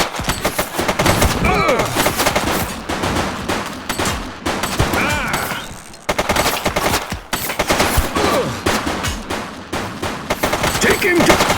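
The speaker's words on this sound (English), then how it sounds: "He's shooting!" Dense automatic gunfire in The Precinct police game, loud and continuous rapid bursts with brief pauses, shouted voices mixed in.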